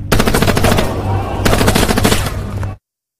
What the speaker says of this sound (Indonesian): Dari atas menara, Song kemudian menghentikan langkah Iko dengan tembakan